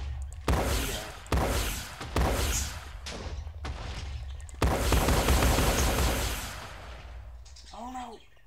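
Video game gunfire aimed at the player's own base: several loud, sharp bursts in quick succession, then a longer sustained volley that tails off, with a voice heard near the end.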